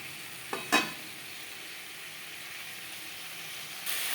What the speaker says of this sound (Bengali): মশলা ও পটলের সাথে ডাঁটা বেশ ভালো করে মিক্স করে দেবো।